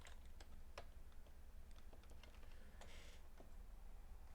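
A computer keyboard being typed on, a quick run of soft, faint key clicks over a steady low hum, without talking.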